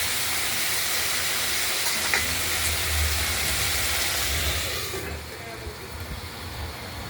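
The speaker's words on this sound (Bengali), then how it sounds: "লাল লাল করে ভাজা করে নেবো" Potatoes and cauliflower fry in a pan with a loud, steady hiss of oil that drops noticeably in level about two-thirds of the way through.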